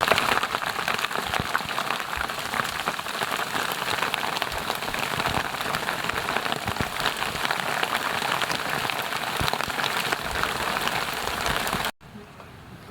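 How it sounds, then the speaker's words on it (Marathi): Heavy rain pours on an orchard in a dense, loud and constant drumming hiss with scattered sharper drop hits, and it cuts off abruptly near the end. "आत्ता जोराचा पाऊस येलो हे बघा"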